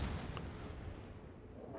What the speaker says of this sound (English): the high explosive shells that you see coming in over on the left-hand side of the screens onto the Musashi are from myself in the Hindenburg firing on him